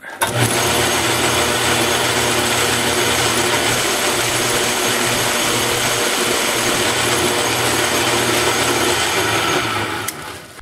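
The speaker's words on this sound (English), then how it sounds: "Now I'm going to spot drill it." A CNC machine spot drilling metal grinds and whirs steadily for several seconds, a loud continuous mechanical drilling noise with a ratcheting texture, ending abruptly.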